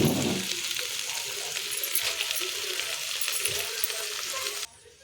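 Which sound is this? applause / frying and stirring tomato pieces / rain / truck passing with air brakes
frying and stirring tomato pieces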